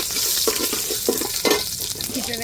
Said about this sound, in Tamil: இப்போ எண்ணெய் சூடேறிட்டு வெந்தயமும் கடுகும் போட்டு தாளிச்சுக்கிடுவோம்